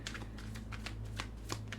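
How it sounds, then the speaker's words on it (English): Tarot cards are shuffled up close in a series of quick, rhythmic papery riffling bursts over a steady low background hum. "the more I shuffle, the more I'm giving the cards the energy to bring out very specific cards."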